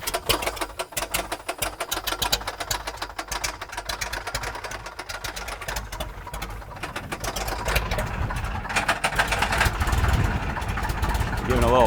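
The 65-horsepower engine of a Taylorcraft BC12-65 light airplane running steadily at idle, a close, continuous rapid chatter that grows slightly louder as a little throttle is added, with a voice talking over it.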